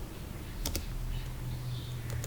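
A few quick clicks of keys being typed on a computer keyboard, faint against a steady background hum.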